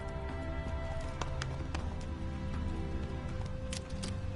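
Roach the horse gallops in The Witcher 3, with steady rapid clip-clop hoofbeats running continuously under a dense, loud game soundscape with no talking.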